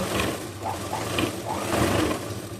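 A tailoring sewing machine stitches cord piping in a quick, even mechanical rhythm, running close and continuous throughout.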